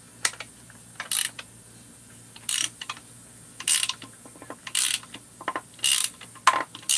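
A 3/4-inch ratchet wrench cranks a bolt down on a 266 crankcase, with sharp clicking bursts of pawl ratcheting in a regular rhythm, about one stroke per second, loud and close, with quieter mechanical ticks between strokes.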